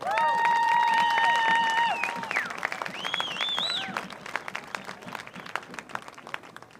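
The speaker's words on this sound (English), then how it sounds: "One more big round of applause for all of our seniors." Applause from a crowd in the stands for the seniors at a high school football game, scattered clapping and cheering under whistles and other sharp tones at the start, with crowd noise thinning toward the end.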